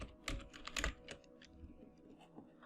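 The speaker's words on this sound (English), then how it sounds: "You can either type out your signature by typing it over here" Someone types on a computer keyboard in quick, irregular clicks, with a louder cluster near the start and then lighter, scattered keystrokes, close and quiet with no talking.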